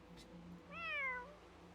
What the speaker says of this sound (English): Faint meow of a cat was quickly drowned out by the wind and snow.